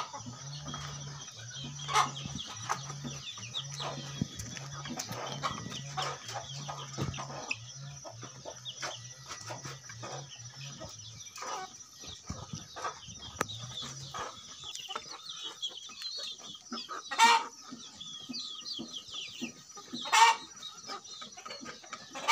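Chickens raised for meat on a farm cluck and chatter close by while eating rice, with a steady run of low repeated clucks early on and scattered sharper calls and squawks later.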